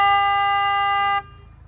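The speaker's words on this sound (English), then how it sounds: "A car horn is super loud" A car horn gives one loud, steady honk lasting just over a second, then cuts off abruptly, leaving faint background noise.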